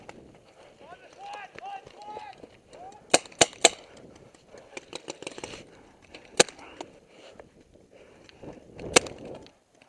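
Paintball markers fire in sharp, scattered pops during an outdoor zombie-themed paintball game, with a few close bursts and more distant shots spread through the clip while players shout and talk over them.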